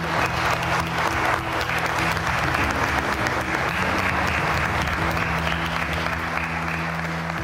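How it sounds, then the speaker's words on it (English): Wedding guests applaud at a ceremony at The Old Vicarage, a loud, steady crowd of clapping that fills the whole stretch without a break. "you need to get ready for applause here"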